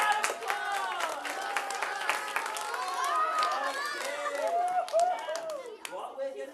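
Audience applause for a volunteer at a live stage show, scattered claps that are strongest at the start, mixed with loud voices and chatter.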